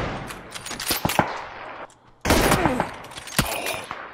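Rapid bursts of automatic gunfire in a shooter video game, loud and close, with dense volleys broken by a short pause before heavy firing resumes.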